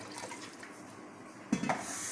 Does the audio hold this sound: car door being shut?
no